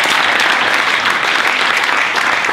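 Loud, sustained applause from an audience thanking panellists at the close of an Africa media forum evening, dense steady clapping that fills the whole stretch without a break.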